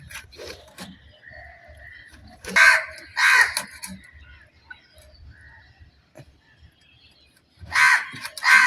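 A crow perched on top of bamboo caws loudly in a few bursts of repeated harsh calls, near and clear, with quieter gaps and some faint background noise between them.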